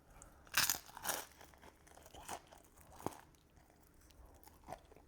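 Close, loud crunching bites into a Cheez-It frozen supreme pizza with a cracker-like crust, several sharp crackling bites followed by quieter chewing.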